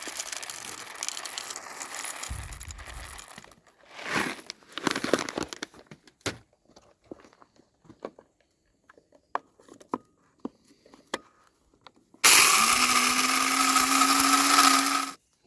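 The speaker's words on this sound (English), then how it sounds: "so we brought the coffee grinder with us." An electric coffee grinder runs on coffee beans from a truck's power outlet while camping, a loud steady whir that starts abruptly near the end after quieter handling and clicks.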